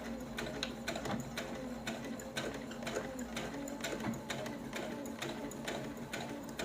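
A sewing machine backstitches a seam on a tote bag, running in a steady close rhythmic whir with repeated needle clatter that continues throughout the clip.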